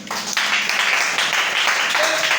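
Church congregation applauding and cheering, a thick burst of clapping and voices that swells in quickly and holds loud and steady to the end.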